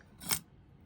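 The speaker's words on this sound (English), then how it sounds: "I'll just cut a little piece" Scissors snip once through a small piece of wire cord used for a print pendant and earring kit, a single crisp close cut in an otherwise quiet moment.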